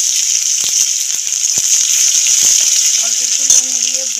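Thinly sliced onions fry with a little salt in hot oil, giving a bright, steady sizzle up close, broken by a few light stirring taps.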